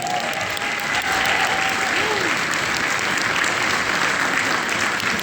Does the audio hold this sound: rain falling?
no